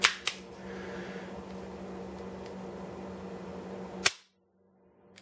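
A handgun is dry-fired off the table during firearm training: sharp isolated clicks at the start and a distinct snap near four seconds over a steady low hum, then near silence.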